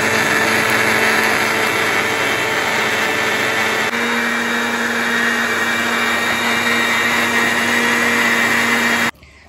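A blender runs hard and steady, grinding jackfruit with condensed milk into a thick shake, its loud continuous whir filling the space alone before cutting off abruptly near the end.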